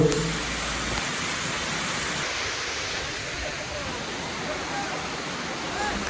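The third falls at Dallapalli, a waterfall, gives a steady, dense rushing roar close by. The roar stays loud and unbroken throughout with no clear pauses.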